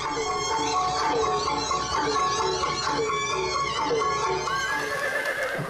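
A horse neighs repeatedly in loud, warbling whinnies over the clip-clop of hooves, from a horse-drawn carriage giving city tours past historic sites in Lampang, Thailand.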